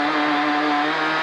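Onboard a Class A rally car during a stage at Rally General Las Heras, the engine holds a loud, steady high-revving drone under acceleration, close and continuous for the whole moment.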